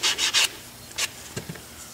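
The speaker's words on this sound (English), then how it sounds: "I just take a foam sanding block" A foam sanding block makes several quick, raspy strokes on a metal disc close by, three in a fast burst, then a single stroke and a couple of light taps.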